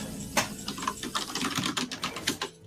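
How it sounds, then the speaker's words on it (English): Rapid, uneven clicking of keys on a computer keyboard as someone types up a card list during a Hearthstone match, close and steady with irregular bursts of keystrokes and no talking. "let me start typing up the list"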